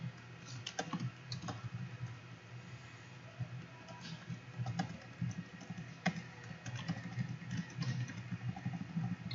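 Typing on a computer keyboard while writing code, a steady stream of light, quick key clicks with occasional louder taps, close and fairly quiet, with no talking.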